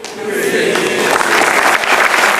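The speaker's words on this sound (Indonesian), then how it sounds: "Gak perlu tepuk tangan." An audience at a Cak Lontong comedy stage show claps in a steady, dense wash of applause that holds at an even loudness throughout.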